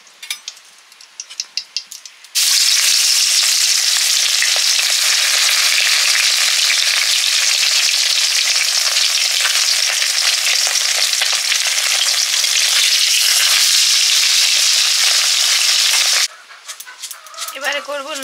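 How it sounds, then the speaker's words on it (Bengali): A fish fries in hot oil in a home kitchen, giving a loud, continuous close-up sizzle for most of the stretch. Softer clattering and stirring come before and after it. "এই মাছটা পড়েছিল একটা, এটাকে ভাজা করে রেখে দেব"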